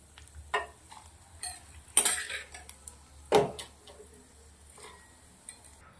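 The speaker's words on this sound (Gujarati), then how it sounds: "નટને આવી રીતે એક તપેલીના અંદર હું કાઢી લઈશ" Roasted nuts are tipped from a pan into a metal pot, making a few sharp metallic clinks and scraping taps in a quiet kitchen.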